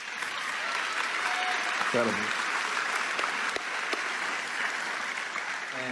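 A church congregation at Community Bible Church breaks into sustained, full-room applause that holds evenly throughout, with a voice briefly speaking over the clapping.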